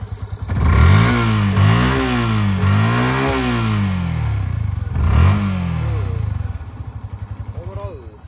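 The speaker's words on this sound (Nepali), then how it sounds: "साउन्ड पनि राम्रै छ यो बाइकको होइन" Yamaha FZS 150 V2 motorcycle with about 10,000 km on it, revved repeatedly up and down close by, then settling into a rhythmic idle putter.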